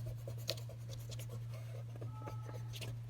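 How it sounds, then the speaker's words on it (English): An eraser rubs pencil guidelines off paper in quiet, scratchy strokes, with a few sharper scuffs, all faint over a low steady electrical hum. "then I can erase lines that I don't need."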